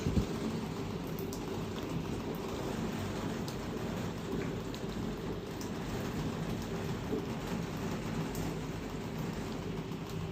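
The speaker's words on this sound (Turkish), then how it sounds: "Çok şiddetli bir yağmur yağıyor." Very heavy rain pours down in Ankara during a flash-flood storm, a dense, steady roar with low rumbling beneath, loud and continuous with no voices.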